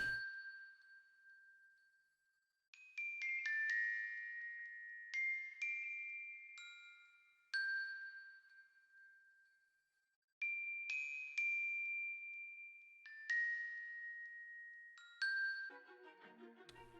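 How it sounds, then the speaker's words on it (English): A synthesized bell melody from the Mallet Flux instrument in FL Studio plays alone, bright chiming notes in short phrases with pauses between, ringing out and decaying, ending with a flurry of quick tones. "So the next thing I added was this bell from Mallet Flux."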